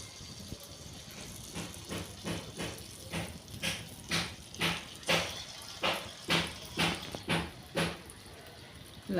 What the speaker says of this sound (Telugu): Oil heat ఎక్కిందండి. ఇప్పుడు దీనిలో చిట్టి చిట్టి పునుకుల కింద వేసుకుందాం.